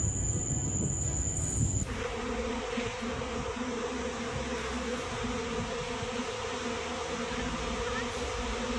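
Honeybees buzzing at a honeybee farm: a dense, continuous swarm drone, loud and close throughout, with a rougher noisy stretch at the start before it settles into a steady hum.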